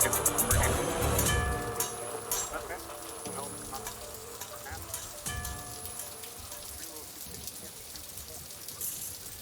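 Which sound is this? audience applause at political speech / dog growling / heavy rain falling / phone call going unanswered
heavy rain falling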